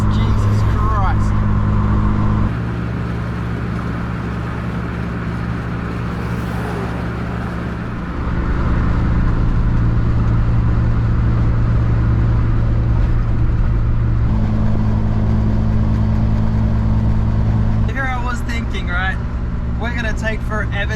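A 1970s Toyota KE55 Corolla on a road trip drones along from inside the cabin, its engine a steady low hum that shifts pitch a few times, with road rumble underneath.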